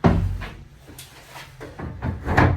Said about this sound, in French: On peut ouvrir la porte de sellerie de l'intérieur.